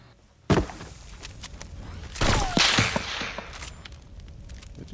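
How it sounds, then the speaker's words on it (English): Gunfire cracking through a window in Fortnite Battle Royale, a sharp loud report followed by a burst of clattering impacts and scattered thuds, with no voices. "Did they just shoot through the window?"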